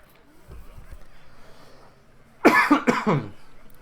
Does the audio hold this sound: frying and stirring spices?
no